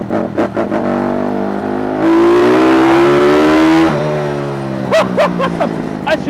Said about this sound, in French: une petite pit bike avec un moteur 164 soupape bien réglé